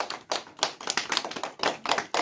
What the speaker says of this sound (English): Should we give Harrison a clap because he's here?